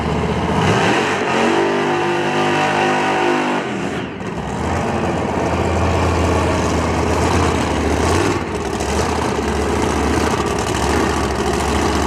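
A race car at Darana Motorsports Park during a testing day sweeps past close by, its engine rising in pitch and then fading, followed by steady engine and track noise from other cars.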